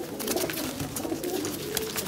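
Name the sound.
racing pigeons cooing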